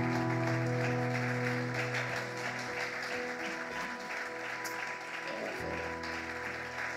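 A church congregation claps and cheers to acclaim the word of God, sustained applause at moderate volume that thins toward the end.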